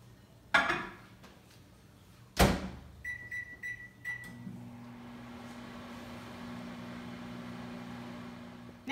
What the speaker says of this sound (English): Now we're going to pop it in the microwave for 1 minute and 25 seconds.